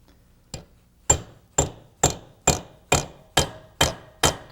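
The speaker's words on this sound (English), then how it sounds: "we're using a rivet punch or a rivet set" Nine sharp hammer blows strike a rivet punch, setting the rivets on brake shoes for an early post-war Rolls-Royce. The blows are close and evenly spaced, and no one talks over them.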